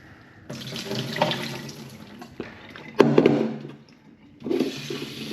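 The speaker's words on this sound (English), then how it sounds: "Give them a quick rinse." Tap water running into a sink to rinse freshly caught abalone, a steady splashing flow that pauses briefly, surges again with a clatter near the middle, then resumes, close and moderately loud.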